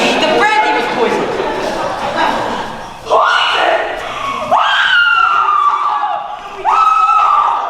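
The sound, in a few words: woman screaming in another room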